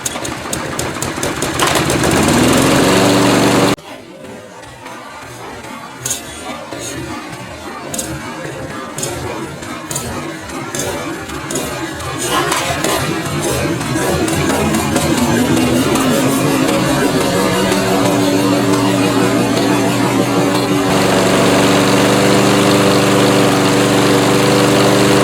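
A run-down lawn mower pushing a heavy smoke show sits at a loud, rough idle that steadies into a sustained buzzing drone, close by and continuous, with no one talking over it.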